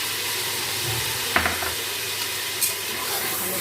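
Red chilli powder, ground coriander and turmeric sizzle steadily in a hot pan for beef korma, a continuous frying hiss with a few brief stirring clinks, close and fairly loud with no talking.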